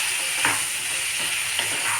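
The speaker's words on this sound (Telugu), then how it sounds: "ఇప్పుడు గోరుచిక్కుడుకాయ ముక్కలు వేస్తున్నానండి" Pieces of cluster bean frying with tomatoes in a pan give a steady, close sizzle, broken by a couple of soft stirring scrapes.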